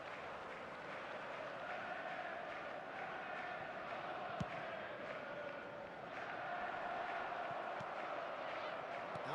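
A stadium crowd roars steadily through an eFootball 2026 match in the video game, a broad, even wash of massed voices that swells slightly toward the end, with one sharp thud midway.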